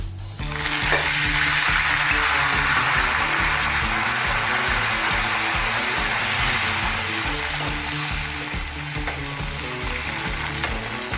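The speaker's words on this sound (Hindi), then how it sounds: "अब हम कड़ी पत्ते को फ्राई कर लेते हैं।" Curry leaves frying in hot oil for a makhana and corn poha chivda, giving a steady, loud, continuous sizzle with a dense crackle that holds evenly throughout, with no talk.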